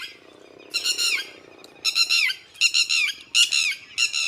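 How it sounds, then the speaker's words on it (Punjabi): Shrill, repeated piercing calls from a red-wattled lapwing in a village at morning, coming in quick bursts of several notes with brief pauses, loud and close. "ਆ ਵੇਖੋ ਟਟੀਰੀ"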